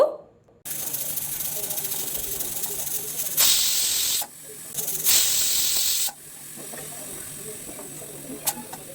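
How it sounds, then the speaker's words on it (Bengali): A pressure cooker holding pointed gourd with a little mustard oil vents steam in loud, sharp hissing bursts, two strong blasts in the middle with softer sustained hiss before and after. "এবার প্রেশার কুকারের ঢাকনা আটকে দিচ্ছি আর জাস্ট কিন্তু দুটো সিটি দিয়ে দেব"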